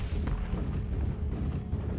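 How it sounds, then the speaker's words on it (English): Airstrike explosions in MechWarrior Online with modded sounds, a continuous deep rumbling boom that rolls on heavily from start to finish. "That should be a meaty airstrike, hopefully."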